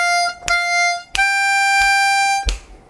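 A harmonica plays a 12-bar blues lick, sounding clear, loud and close in a few sustained tones with sharp breathy attacks roughly every half to one second, no talking.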